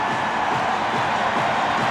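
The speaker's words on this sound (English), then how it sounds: "And this crowd has been very loud early on." A loud hometown arena crowd at the United Center roars throughout Game 6 of the 1996 NBA Finals between the Seattle SuperSonics and Chicago Bulls, a dense, sustained wall of cheering with no break.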